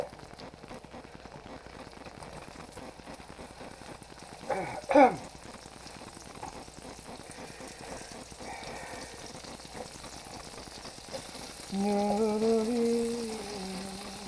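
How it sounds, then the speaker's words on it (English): Beef cubes sizzling as they fry in a pan for beef tips, a faint steady crackle throughout with a louder clatter midway and a voice speaking near the end. "This is sizzling up all nicely. And we're going to throw our separated beef cubies in here."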